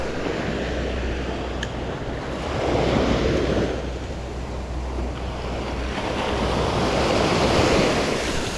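Waves wash and splash continuously, swelling and receding in slow surges, with wind rushing across the microphone and no voices.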